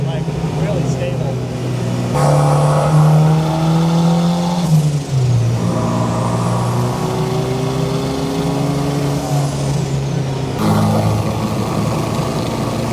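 A second-gen Toyota Ultra4 race truck engine drones loudly from inside the cab, revving up and easing off in waves with a rising turbo whine and whoosh, while occupants talk over it.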